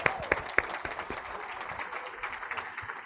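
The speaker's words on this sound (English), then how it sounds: "round of applause" Audience at a Rotary district conference bursts into a round of applause, dense clapping with a few sharp claps standing out and cheering mixed in, sustained and fairly near throughout.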